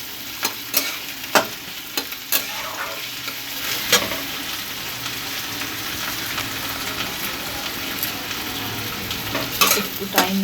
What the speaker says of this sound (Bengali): একটু টাইম দিয়ে ভাজবো যাতে পেঁয়াজটা নরম হয়ে যায়